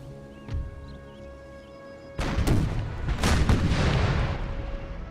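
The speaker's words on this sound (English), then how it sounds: "They're within range of cannon shot now." Cannon artillery fires in a land battle in the strategy video game Empire: Total War, with a sudden loud boom and a rolling, rumbling roar of gunfire after it, over a low steady game ambience.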